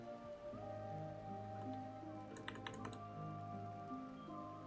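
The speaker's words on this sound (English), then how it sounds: "it's not picking up my keyboard as easy either." Brief cluster of keyboard key clicks during a Pokémon HeartGold/SoulSilver session, a few quick taps around the middle over a steady background hum and tonal game music, no talking.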